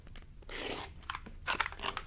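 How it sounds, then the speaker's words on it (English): Quilt fabric being cut along a center line, a few short close crisp snips and crunches in quick irregular bursts, fairly quiet. "So from here, you're going to cut on that center line"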